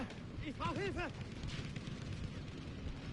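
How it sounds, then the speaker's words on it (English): Mortar blasts and battlefield chaos in the Battlefield V video game, dense and loud throughout with a burst of rapid impacts and ringing effects early on, then a steady rumble of gunfire and background noise while voices shout over it. "that is a mortar of death"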